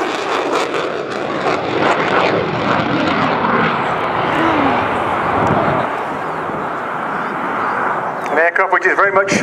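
A Boeing F/A-18 Super Hornet makes a high-speed airshow pass, its loud jet roar sustained and swelling under a public-address announcer's commentary.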